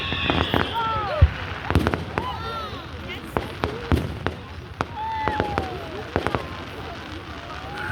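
A Canada Day town fireworks display, with repeated sharp bangs and crackles from near and far, whistling rockets rising between bursts, and people talking and cheering in the crowd.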